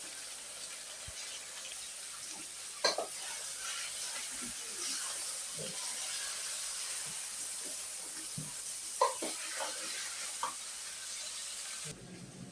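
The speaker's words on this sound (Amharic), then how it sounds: "ሽንኩርታችንና ካሮታችን ጥብስ ብሎ በስሎና አሁን ድንቻችንን እናደርጋለን" Onions, carrots and potatoes fry in a pan, a soft, even sizzle under intermittent spoon scrapes and taps against the pan, fairly quiet and close.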